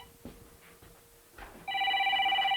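A telephone starts ringing near the end, a steady electronic ring tone after a few soft household knocks and rustles.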